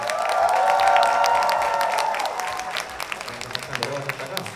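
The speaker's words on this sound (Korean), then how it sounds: "다시 한번 큰 박수 부탁드릴게요" Concert audience applauding at the end of a solo concert performance, dense clapping and cheering that is loud at first, then thins into scattered claps.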